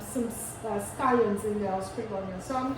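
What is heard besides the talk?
No everyday noise stands out behind the speech.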